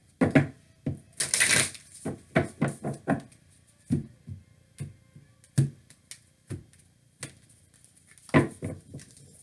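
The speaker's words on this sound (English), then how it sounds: "One more shuffle here." Tarot cards are shuffled by hand in a quick riffle followed by a series of crisp taps and flicks, close up and without speech.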